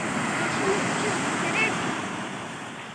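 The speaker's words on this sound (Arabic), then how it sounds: "لسه مكملين منظر البحر وصوت البحر التحفة." Sea waves wash steadily onto the shore at Alexandria, a broad continuous rushing surf with some wind across the microphone, fairly loud and unbroken throughout.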